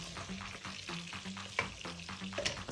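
Onions frying over low heat in nearly melted butter in a pan, a steady soft sizzle with repeated stirring scrapes, close and fairly quiet, no talking.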